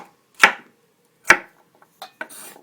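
Vegetables chopped on a cutting board for kitri, a rice, beans and mixed vegetable dish: two sharp knife strikes spaced about a second apart, then a few lighter taps and a soft scrape, close and clear with no talking.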